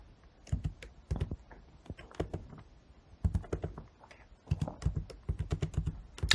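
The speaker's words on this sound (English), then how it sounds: "If you're wondering why I'm typing" Rapid keystrokes on a computer keyboard come in close bursts of clicky taps with short pauses between runs, steady and fairly quiet with no talking over them.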